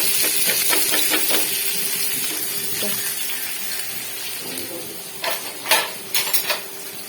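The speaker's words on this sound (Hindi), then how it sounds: "पैन में हमने डाला घी, हमारा घी हो चुका है गरम। हम इसमें डालेंगे प्याज" Onion hits hot ghee in a pan and sizzles with a steady, close hiss that eases slightly over time, with a few clinks and scrapes of stirring toward the end.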